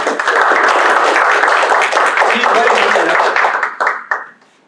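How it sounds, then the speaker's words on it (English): Warm applause from a lecture audience for a guest speaker on climate politics, a dense, steady wash of clapping that holds loud for about four seconds before thinning into a few last claps. "Let's give him a warm applause."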